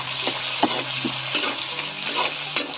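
Ginger-garlic paste and spices fry in hot oil in a wok over a village kitchen hearth for duck curry, with onion and garlic already in. A steady close sizzle is broken by about five rhythmic scraping stirs.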